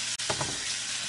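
Onion sizzling as it drops into about two and a half spoonfuls of melted butter in a frying pan, a steady close hiss with a few soft stirring clicks, no voices.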